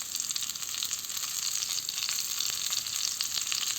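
Raw mango pieces fry steadily in hot oil in a pan, a dense, continuous crackling sizzle that stays loud and even throughout, with no voices.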